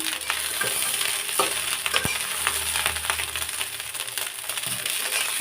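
Leftover rice is stir-fried in an uncovered pan, with a constant close sizzle broken by repeated scraping and clanks of a spatula against the metal.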